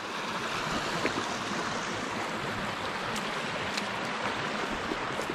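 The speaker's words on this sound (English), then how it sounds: "Nice little rapids coming down." Small stream rapids in Maine brook trout water, a steady close rush and babble of flowing water that stays even throughout, with no voices.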